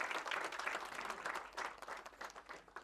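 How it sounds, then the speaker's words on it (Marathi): An audience at a film trailer launch event for Sushila Sujeet breaks into a short, dense burst of clapping that stays loud throughout and only slightly thins near the end. "जोरदार टाळ्या व्हायला पाहिजे"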